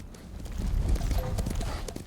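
Horse hooves gallop in Ghost of Tsushima, a rapid thudding clip-clop rhythm close up and fairly loud, with someone talking over it.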